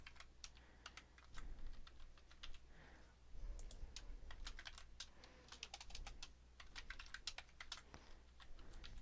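Fast, irregular tapping on a computer keyboard as a username and password are entered, with close, crisp keystrokes in bursts over a faint low hum.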